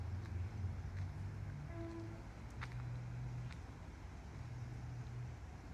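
Steady traffic rumble on a potholed, badly deteriorated street in Boulogne, a broad low drone with engine hum running throughout, a couple of brief brighter knocks midway, moderately loud and continuous with no voices.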